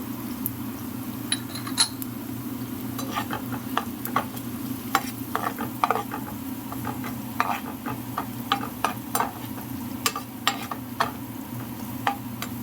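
Garlic sautéing in a pan for a shrimp and potato curry, with a low steady sizzle beneath scattered light clicks and scrapes of a utensil stirring against the pan.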